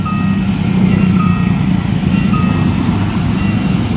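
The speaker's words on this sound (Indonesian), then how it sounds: "Masih bunyi gentanya teman-teman." At the JPL 282 Krenceng railway level crossing in Indonesia, the warning bell repeats a steady, insistent ringing tone over a loud, low rumble of idling traffic.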